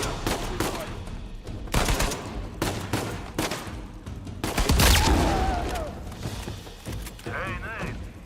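Automatic weapon fire in the video game Uncharted 4: A Thief's End, rapid bursts of shots repeating through the clip, loud and dense against game sound and voices.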